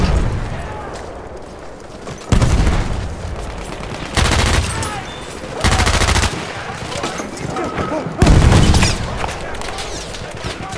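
Battlefield 1 multiplayer combat in a Passchendaele conquest match: loud, heavy bursts of gunfire and blasts recur roughly every two seconds against a continuous rumbling battlefield background.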